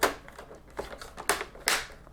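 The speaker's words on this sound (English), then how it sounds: "we can put this little plastic cover back on" A small plastic cover is snapped back onto a Dell Inspiron all-in-one computer, heard as a few close, sharp plastic clicks and clacks spaced out over about two seconds.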